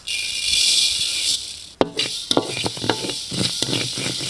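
Food sizzles in a hot pan, then a utensil scrapes and clatters against the metal in repeated stirring strokes, close by.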